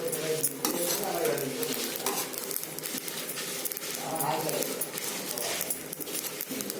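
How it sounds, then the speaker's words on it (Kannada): Rasam powder spices dry-roasting in a pan over low flame, with constant scraping and stirring, clinking of the ladle against metal and a light crackle, close up, with someone talking over it. "she keeps on frying in the same heat which is there in the pan"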